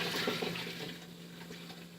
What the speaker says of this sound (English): I'm going to go ahead and pour the rest of my boiling water